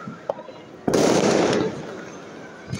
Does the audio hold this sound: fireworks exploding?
yes